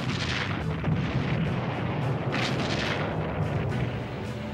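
The big guns of the battleship Missouri firing during the Korean War, with heavy booming blasts rolling into continuous rumbling and distant thunder.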